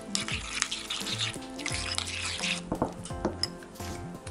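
Food is stirred in a pan, with a spoon scraping and clinking against the metal in short, busy bursts and a light sizzle underneath.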